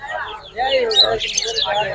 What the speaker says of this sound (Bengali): এখানে চমৎকার কিছু পাখি আছে টিয়া পাখি আরো অন্য অন্য পাখিও আছে